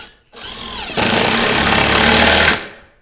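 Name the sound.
driving screws with a power drill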